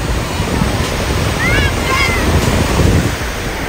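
Ocean waves at Galveston beach wash and rumble in a continuous loud surf, heavily buffeted by wind on the microphone, with faint voices and calls briefly heard over it.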